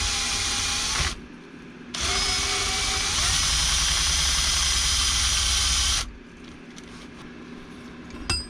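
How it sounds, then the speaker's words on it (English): Power drill lapping valves on a Yamaha Moto 4 YFM225 engine, a loud steady whine running in two bursts, a short one and then a longer four-second stretch, with quieter workshop hum between and after. "A little pressure with the drill"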